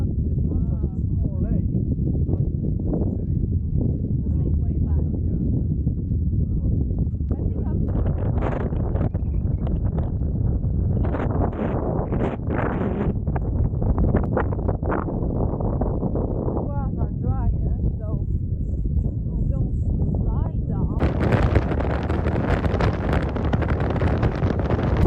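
Strong gusting wind buffets the microphone on a hiking path near Kallur lighthouse in the Faroe Islands, a loud continuous low roar with surges, and a person talking beneath it.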